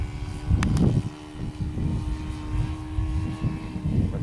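Small four-stroke OS FS 40 engine drones steadily on a radio-controlled De Havilland 82A Tiger Moth model biplane flying on a breezy day, its buzz rising and falling slightly as the plane passes, with no talk over it.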